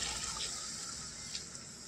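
Water is poured into a pan of cooking potatoes for a village-style bhakura fish besar curry, making a faint, steady gushing pour that lasts only a moment.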